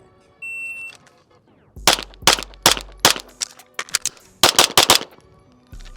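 A pistol fires through a 4 by 22 shooting drill: a string of sharp, loud shots in quick pairs and bursts, with a short pause between strings and a final shot at the end; nobody speaks.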